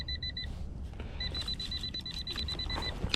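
A metal detector emits a rapid, steady electronic beeping in two bursts, a short one, a pause, then a longer run, over faint rustling, sounding over a playground target without touching the ground.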